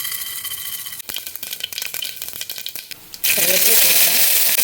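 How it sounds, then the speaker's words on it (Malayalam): Mustard seeds spit and crackle in hot coconut oil in a heated pan, a burst of sharp irregular pops that gives way to a loud, steady frying hiss. "ഇനി ഇതിലേക്ക് വെളിച്ചെണ്ണ ഒഴിച്ച് കടുക് പൊട്ടിച്ചെടുക്കാം."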